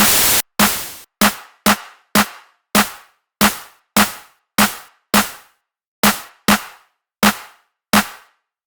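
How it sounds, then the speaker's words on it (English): A synthesized noise tail for an electronic drum sound repeats about fifteen times. Each is a sharp, loud burst of hiss that decays quickly into silence, in an uneven rhythm. "And now we need like a noise tail."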